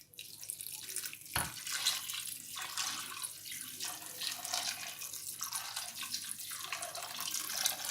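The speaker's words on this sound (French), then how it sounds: "Et on va venir mettre de l'eau froide. On va tout couvrir." Cold water running from a tap into a pot to cover ingredients for bissara, a steady splashing, gushing stream heard close and continuous, with one sharp knock near the start.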